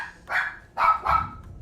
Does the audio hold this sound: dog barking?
yes